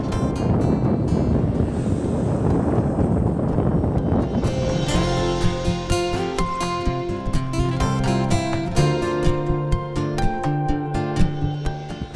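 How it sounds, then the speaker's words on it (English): Strong headwind buffeting a cyclist's microphone while riding through Yellowstone National Park, a loud continuous rushing roar with gusty swells and clicking bursts of close mic noise throughout, no speech. "The headwind today is absolutely ridiculous."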